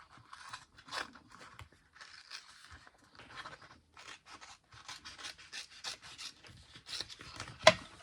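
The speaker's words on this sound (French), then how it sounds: "Je vais le découper." Scissors snip and rasp through a piece of material in quiet, uneven bursts up close, with short pauses between cuts and one sharper click near the end.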